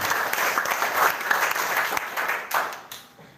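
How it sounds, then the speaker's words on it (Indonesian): An audience at an installation ceremony for the Permasa student organization applauds. Sustained crowd clapping fills the room and then thins out and fades near the end. "Tepuk tangan."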